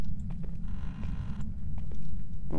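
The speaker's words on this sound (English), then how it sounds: "I just heard a door." Creaking door in the ghost-hunting video game Phasmophobia, set in an asylum at night: a drawn-out, low groaning creak with a few faint clicks, rising in pitch briefly at the end, heard alone without speech.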